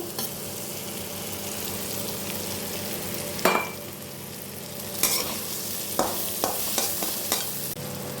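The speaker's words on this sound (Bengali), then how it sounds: "এবার আমি ভেজে রাখা উচ্ছেটা এর মধ্যে দিয়ে দেব।" Pumpkin and fried bitter gourd cooking in a pan under a low continuous sizzle, with several sharp scraping stirs of a spatula against the pan in the second half and no voices.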